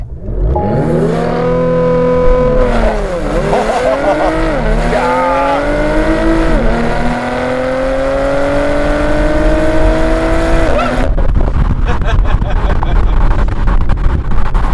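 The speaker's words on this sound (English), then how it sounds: "Let's give this launch control a try." A 2020 Porsche Macan GTS small SUV doing a launch control start in Sport Plus, its engine revving hard and climbing loudly through several gear changes with rising pitch sweeps, heard from inside the cabin before easing off near the end.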